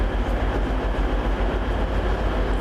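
Evening passenger train service to Chelsea Street pulling into a station, a steady loud low rumble with regular wheel clicks pulsing under a broad noisy hiss, no voices.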